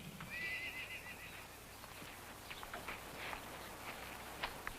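A horse whinnies once, a clear high neigh, followed by hooves clip-clopping softly at a distance over quiet outdoor ambience.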